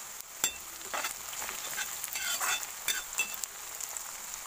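Onions and ginger frying in a pan, a steady soft sizzle with occasional scraping stirs and light clinks of a utensil against the pan, close by and without talk.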